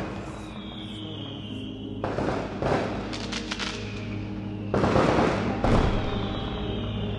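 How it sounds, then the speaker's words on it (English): Fireworks in a music video go off in several sharp, crackling bursts a second or so apart, over a steady low musical bed with no speech. "These are fireworks."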